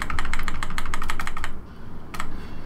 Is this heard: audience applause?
no